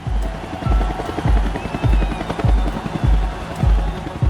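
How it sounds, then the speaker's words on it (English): A military helicopter's rotor thumps in a steady, regular beat about every two-thirds of a second, loud and close, with engine whine running underneath and no voices. "The military sends a helicopter to pick up Chavez"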